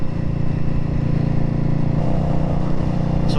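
Steady engine drone of a 2018 Indian Scout Bobber motorcycle out on a long highway ride, loud and continuous with wind rush, no talking over it.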